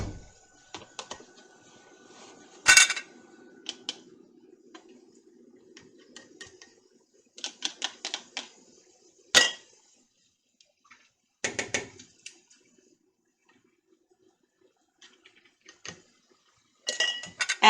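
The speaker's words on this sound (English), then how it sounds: "Scoop out your solid mushrooms. Fill your jar to 1-inch headspace." Solid mushrooms being scooped into a glass canning jar during home canning: sparse, close clinks and scrapes of utensil against glass in a few separate bursts, with quiet stretches between them and no talking.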